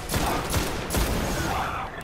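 Dense, continuous gunfire from the video game Destiny, a loud rapid barrage with several sharper shot peaks, filling the whole short stretch without any talk.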